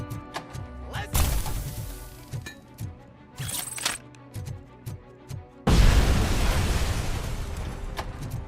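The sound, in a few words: enemies exploding in the video game Robocop Rogue City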